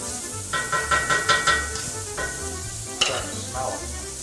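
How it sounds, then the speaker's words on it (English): Sage frying with bacon in bacon fat in a pan, giving a steady hiss and sizzle broken by several stirring scrapes and one sharp clink of a utensil. "I'm going to take the sage and kind of just put the sage in there, mix it in with the bacon and the bacon fat"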